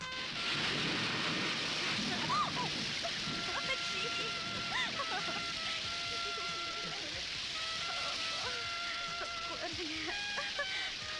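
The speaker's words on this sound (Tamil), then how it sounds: "ஐயோ, மழை வருதா?" Steady rain with thunder in a Tamil film scene: a continuous dense wash of rainfall with low rumbles underneath, while background music tones and faint voices sit over it.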